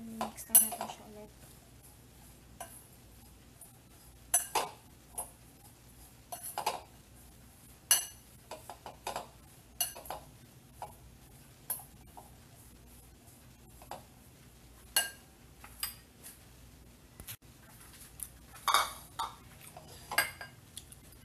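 Utensils mixing a singkamas (jicama) salad seasoned with ground black pepper and salt, with irregular clinks, scrapes and taps of metal against a bowl throughout, close and fairly faint.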